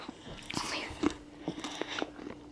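Someone bites and chews frozen chocolate shaped in dog molds, giving a few close crunches and soft mouth sounds, with quiet voices in the background.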